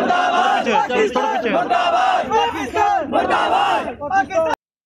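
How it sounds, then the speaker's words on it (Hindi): Protest crowd chanting anti-Pakistan slogans in anger over the Pulwama attack on soldiers, many voices shouting together in loud, continuous rhythmic bursts close by. "पाकिस्तान मुर्दाबाद के नारे लगाए"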